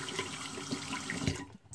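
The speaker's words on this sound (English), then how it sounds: "Okay, I'm gonna rinse it off." Water runs from a tap to rinse a razor while shaving. A steady, moderately quiet splashing flow goes on for most of the moment and then cuts off near the end.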